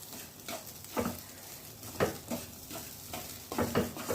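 Cooked ghee rice is added bit by bit to a pan and stirred, giving soft scraping strokes roughly once a second over a faint low sizzle, quiet and close.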